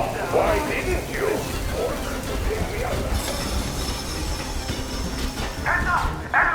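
A train rumbles along in the Metro Exodus video game, a loud continuous rolling roar with metallic wheel squeals, while urgent voices shout over it.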